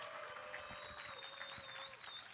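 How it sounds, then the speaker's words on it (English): Audience applause at a live esports talk-show event, a steady wash of clapping with a few cheers, loud and continuous throughout with no talk over it. "Round of applause for Jack."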